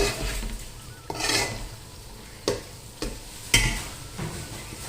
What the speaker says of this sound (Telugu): బాగా వీటికి మసాలాలు పట్టేటట్టు మనం మిక్స్ చేసుకోవాలండి.